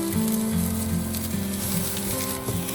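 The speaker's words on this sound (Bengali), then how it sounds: "পেঁয়াজটাকে এবার একটু বেশ নেড়েচেড়ে ভালো করেই ভেজে নিতে হবে।" Chopped onions, salted, fry in a pan with a loud continuous sizzle and crackle heard up close, a low hum running steadily underneath and no voices.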